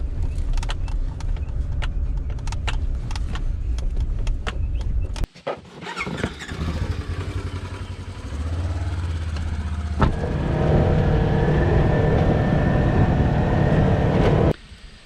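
A vehicle drives on a rural road in Nebraska and pulls up to a hunting spot, its steady engine and road rumble changing pitch partway through before settling and cutting off near the end.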